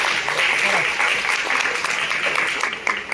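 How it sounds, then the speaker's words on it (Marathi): Concert audience at a classical Indian music event breaking into vigorous clapping, a full, even burst of applause that stays strong and slowly thins toward the end, with a voice faintly mixed in. "आजोबांसाठी जोरदार टाळ्या वाजवा"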